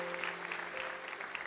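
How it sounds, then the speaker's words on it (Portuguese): Diffuse applause from a church congregation during a sermon, heard as a soft, steady wash of claps over a low, constant hum. "Você pode aplaudir."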